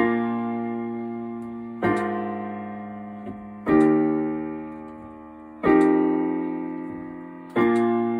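Piano chords from the verse of a song struck one at a time every couple of seconds, each ringing out and fading before the next, played alone and softly.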